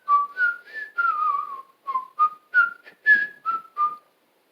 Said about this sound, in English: I try out new whistles for everything.